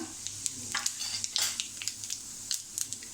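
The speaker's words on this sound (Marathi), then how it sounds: "आपल्याला कधी फोडणी देताना ना गॅस स्लो करायचा आहे आणि ही राई अशी तडतडली पाहिजे" Mustard seeds and cumin crackle in hot oil on low heat for a raw banana bhaji, with quick sharp pops and light spatters over a faint sizzle close up, mixed with small clinks of a utensil.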